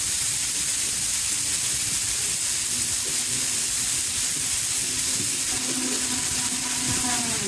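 A VIDIEM mixer grinder runs at speed 1 with a loud, constant roaring whir that holds steady from start to finish, close up and filling the sound, with no talking.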